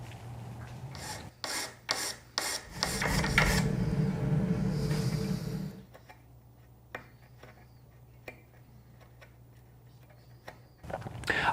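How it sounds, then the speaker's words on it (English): An 8-inch 3-square file shaping the raker teeth of a 1904 Simonds crosscut saw, heard as short close scraping strokes in a quick series, then a sustained rasp, followed by quieter scattered ticks and taps. "I start by using an 8-inch 3-square file to shape the raker profile."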